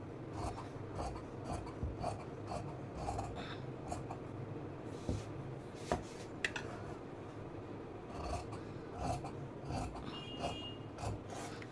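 Scissors cutting fabric for a kurti top, a steady, close rasping and rubbing of blades through cloth that runs without pause and with no one speaking.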